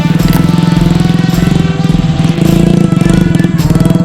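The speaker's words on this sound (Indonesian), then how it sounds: "tidak sedikit jalur yang berlumpur sehingga roda motor kami kesulitan dalam mendapat traksi" Off-road motorcycle engine revving steadily on a muddy jungle trail in Kalimantan, loud and close, with a rough chugging drone that surges and dips throughout.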